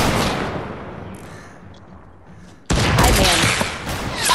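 Fortnite gunfire from a sniper duel, a dense burst of shots fading out, then a sharp loud crack near the end followed by sustained noisy blasts, with faint game sounds between.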